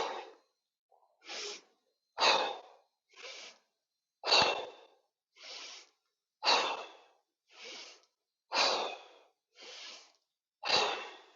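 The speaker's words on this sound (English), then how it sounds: "Again, synchronized breathing." A group doing a synchronized breathing exercise, heard as a steady series of about eleven short, sharp breaths spaced roughly a second apart, even in rhythm and moderately loud, with no talking.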